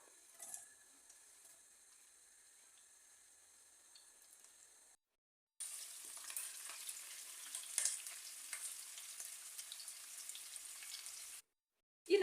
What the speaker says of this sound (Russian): И отправляю лук.